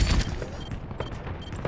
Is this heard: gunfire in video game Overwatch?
yes